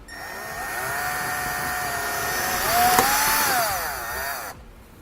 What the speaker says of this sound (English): I'm just going to drill right in the center of those rivets